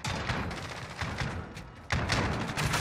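Video game gunfire in Call of Duty Warzone cracks in a rapid series of loud shots, close and dense, with a sharp burst near the end.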